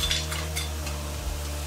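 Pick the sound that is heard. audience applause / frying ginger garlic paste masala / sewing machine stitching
frying ginger garlic paste masala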